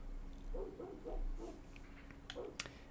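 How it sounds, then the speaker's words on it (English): A neighbor's dog barks and yelps in a few short bursts, distant and muffled, over a steady low hum, with a sharper sound near the end. "Of course, the neighbor's dog is barking now."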